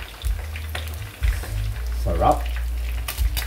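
Yellow pin fish frying in a pan, giving a steady sizzle and crackle with brief stirring clatter, while a person speaks over it.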